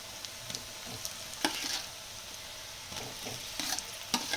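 Mashed potatoes and turmeric sizzle softly in a pan for a dosa filling, with occasional stirring scrapes over a low, steady frying hiss.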